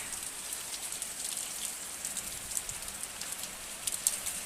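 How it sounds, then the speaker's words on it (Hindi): Heavy rain pours outside as a dense, steady hiss, spattering with uneven patter and crisp drips throughout, close and fairly loud, with no voices. "आपको आवाज़ भी आ रही होंगी, काफ़ी ज़ोर से बारिश हो रही है बाहर।"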